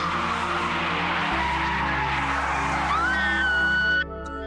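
A car skids to a stop in a radio-drama traffic scene, a continuous loud rushing engine and road roar rising into a high tire squeal before cutting off abruptly.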